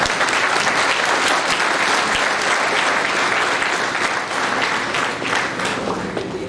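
An audience at an annual academic conference applauds a school of management sciences, producing a loud, continuous roar of many hands clapping that stays even from start to finish, with no voices over it.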